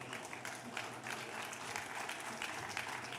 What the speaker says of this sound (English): Please give a round of applause to Adam Fuller.